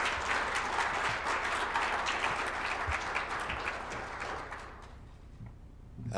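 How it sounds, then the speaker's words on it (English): An audience at a mayor's levee applauds the staff with dense, sustained clapping that carries evenly, then thins and fades toward the end. "if we could have a round of applause for all our staff and an incredible job today"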